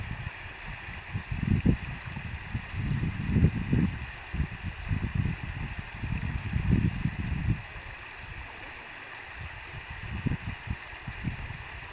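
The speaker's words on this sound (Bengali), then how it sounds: "এত পানি কি স্রোতে পড়তেছে পানি রে" River water surging in a strong current, a steady broadband rush with heavier low churning swells, close and continuous across the whole stretch with no talk over it.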